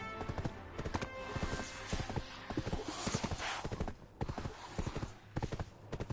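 Horse hooves clip-clop in a steady, fairly loud rhythm as a mount trots along in a video game, the beats clustered in quick runs with brief gaps and no talk over them.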